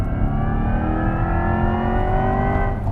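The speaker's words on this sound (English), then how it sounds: "For me, I want to hear electric motor." A 2024 Chevrolet Corvette E-Ray hybrid, with a front-axle electric motor paired to a 6.2-liter V8, accelerates hard. Its loud, steady, rising whine and roar climb in pitch for about three seconds, with no voices.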